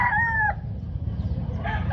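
A rooster at a chicken expo in Consolacion, Cebu, lets out one loud, close crow that breaks off after about half a second, with a shorter second call near the end over a steady murmur of crowd noise.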